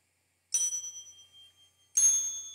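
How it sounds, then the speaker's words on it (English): Two synthetic bell tones made in Sonic Pi ring out separately, each a bright struck ding with a clear sustained pitch that slowly fades, the second starting after a short pause. "You can hear these different bell-like sounds some of them low pitched"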